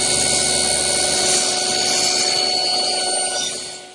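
Table saw with its blade tilted to 45 degrees cutting a miter on wooden stiles, a steady loud whining buzz with a constant tone that holds and then winds down near the end.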